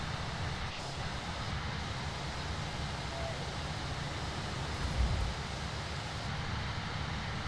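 Steady jet engine roar of a Fenix A320 airliner on its takeoff run in Microsoft Flight Simulator, a continuous broadband rumble heard at moderate level with no voices over it.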